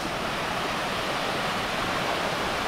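An unnamed waterfall in Malico roars loud and close, a dense, unbroken rush of falling water with no other sounds.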